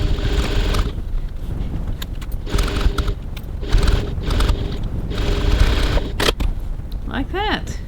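A sewing machine runs a 6 mm seam on a handbag at a 2.4 stitch length, whirring in short close bursts with gaps between them, and a voice talks over it.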